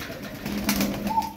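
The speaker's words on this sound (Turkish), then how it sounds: "9 tane kuş var burada." Several pigeons in a loft give low, soft cooing calls, a steady murmuring hum with a few rising notes near the end, close and clear with no talking.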